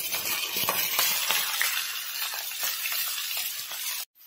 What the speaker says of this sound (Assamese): কঁঠালখিনি আমি অলপ ৰঙচুৱা হোৱালৈকে ফ্ৰাই কৰি ল'ম।